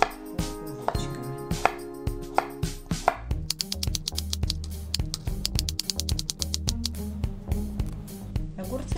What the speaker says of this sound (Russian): Дальше режем огурцы.